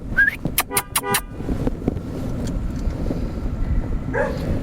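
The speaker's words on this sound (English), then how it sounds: "Blow your horn at him." Several short honks from a car horn blown at a dog in a rural roadside setting, in a quick burst near the start over steady engine and road rumble, with faint barking mixed in.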